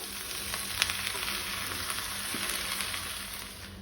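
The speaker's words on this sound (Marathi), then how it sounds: "सुंगटां शिजली तशी तातूंत हांव वांयगे घालता।" Brinjal frying with dried prawns in a pan, a dense continuous sizzle close by, with light stirring clicks scattered through it.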